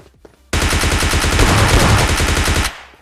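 Rapid automatic gunfire in PUBG Lite, a loud sustained burst of closely spaced shots lasting about two seconds after a brief quiet lead-in, then cutting off abruptly.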